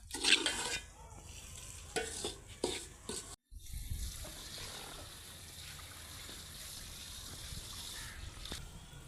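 Semolina fried in hot ghee is stirred in a pan, giving irregular scraping strokes and soft sizzling, with clattering bursts early on followed by a steadier, quieter fry after a brief gap.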